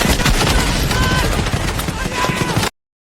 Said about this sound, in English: The captain called for Sniper Jackson to take out the German gunners.